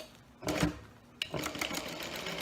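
A sewing machine back-stitches a seam on a zipper pouch: two short, close, whirring bursts of needle action, the second beginning abruptly and running a little longer.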